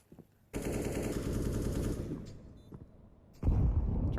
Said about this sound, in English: naf will fire through the smoke and find Vinny